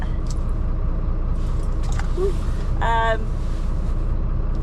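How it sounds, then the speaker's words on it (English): A small lorry rumbles steadily as it drives along tight lanes, a constant low engine drone with brief rattles and a short tonal squeak over it. "we're in the little lorry"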